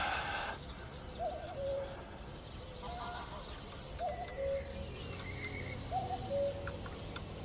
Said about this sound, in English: You hear the cuckoo.